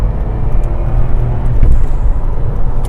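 A 1992 Vauxhall Lotus Carlton's engine pulls hard under acceleration, a steady loud low rumble with road and wind noise building slightly partway through, no talk.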